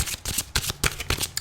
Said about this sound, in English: I'm using the Archangel Power Tarot cards by Doreen Virtue.